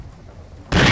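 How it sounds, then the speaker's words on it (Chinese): A single sharp, loud gunshot from the RPG Maker survival horror game Resurreccion 2, bursting suddenly out of a quiet lull near the end and ringing on at full strength. "shoot，OK，shoot， 开枪"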